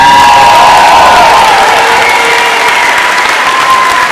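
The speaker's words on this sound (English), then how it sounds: "One more round of applause for all of our Excellence Award winners." Loud, sustained applause fills a 4th grade graduation ceremony as the audience claps for Excellence Award winners, dense and even throughout with scattered children's shouts and whoops mixed in.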